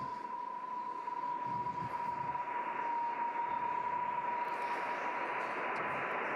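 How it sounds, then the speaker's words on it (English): Solar flare electromagnetic signals converted into sound form a continuous rushing hiss, limited to a narrow band, with a thin steady whistle-like tone running throughout and faint low rumbles coming and going, moderately quiet and without any talking. "some of these sounds that you're hearing now are the sounds of solar flares"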